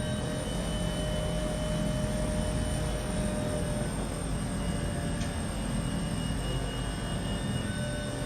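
A Bell 412 helicopter in X-Plane 11 flies with a steady, loud, droning engine and rotor roar that holds constant throughout.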